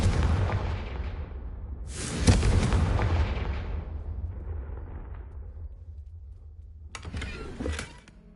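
Blasting spell explosions in a fantasy wizard video game, two heavy booms a couple of seconds apart with long rumbling decays, then a sharp crackling burst near the end, loud and close with no talk.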